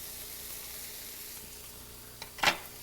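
Chopped sweet peppers go into a pan of frying onions, and a steady, close oil sizzle runs throughout, with a brief clink and clatter of a utensil near the end.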